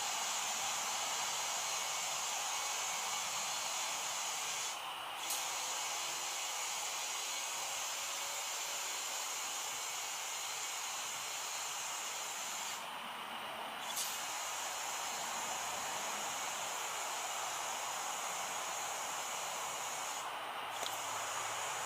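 Steady compressed-air hiss from a compressor line inflating a tire on a Harbor Freight tire changer, toward 40 psi, constant and fairly loud, with three brief higher bursts of air.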